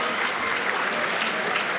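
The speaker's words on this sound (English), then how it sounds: "Can we get another round of applause for that amazing Breath of the Wild run?" Audience applause at the SGDQ 2019 speedrun marathon after a Breath of the Wild run: a dense, steady wash of clapping from a crowd that holds at even loudness throughout.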